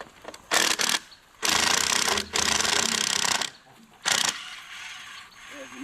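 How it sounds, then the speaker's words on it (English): A screw being driven into a board with a power driver while hanging a sign over a man-made lake, heard as several loud whirring bursts of varying length separated by short pauses, outdoors. "Send that screw in the board there."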